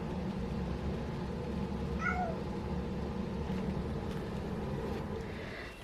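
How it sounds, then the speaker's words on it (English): Pet cat at home at night giving one short meow around the middle, faint against a steady low household hum. "My cat still wants stuff from me."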